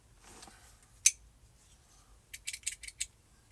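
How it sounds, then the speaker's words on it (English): A pair of scissors from a yarn-crafting kit snips in a quick run of five or six sharp, close clicks after a lone earlier click, with a quiet room otherwise. "Scissors."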